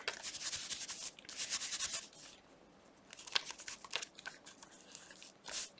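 Paper being crinkled for a collage, close crackling bursts in several uneven rounds separated by quieter pauses, with no talk.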